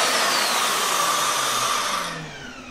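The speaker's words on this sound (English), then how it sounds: "the vacuum is triggered when you turn on the tool." A TITAN shop vacuum runs in automatic mode, switched on with a connected power tool, giving a loud steady whoosh close by that drops away near the end as it winds down, with no voices.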